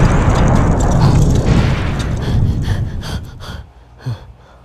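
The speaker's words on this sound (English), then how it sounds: "I can't believe that explosion went off." Animated explosion of a leaking fuel tanker on railway tracks: a loud, dense roaring blast that rumbles on and slowly fades over several seconds, ending with a short thud.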